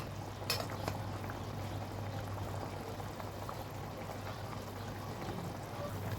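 Fish curry (kason pora macher jhol) simmering in a pot, a steady close bubbling with a low hum beneath and one brief clink near the start, no talk.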